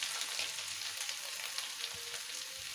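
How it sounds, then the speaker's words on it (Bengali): Potatoes and chopped onions frying in a pan, a soft steady sizzle with faint hiss and occasional small crackles, fairly quiet and continuous. "দেখো আলু পেঁয়াজ ভালো করে ভাজা হয়ে গেছে।"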